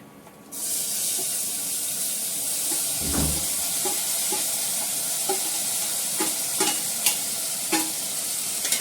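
Bitter gourd and pumpkin pieces going into a hot pan with small dried red chillies, giving a steady broad sizzle with a few sharp clinks and stirring knocks throughout, no talk.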